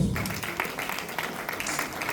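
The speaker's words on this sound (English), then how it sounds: "let's give them a round of applause." Steady applause from an audience at a university anniversary colloquium, a broad crackle of clapping that stays even for a couple of seconds.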